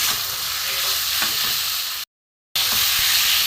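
Raw chicken for a papaya chicken curry sautéing over high heat, a loud, dense, continuous sizzle close up that cuts out briefly and returns, with no voices.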